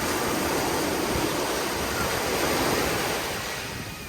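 Gulf Coast surf rolls in steadily at a beach in Destin, on the Florida Panhandle, as a continuous loud wash of waves with a little wind, easing slightly toward the end.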